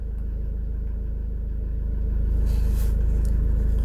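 A SsangYong Korando Sports engine idles with a steady, low rumbling hum close by, growing slightly louder toward the end, running with an exhaust gas recirculation circuit fault (code P0403).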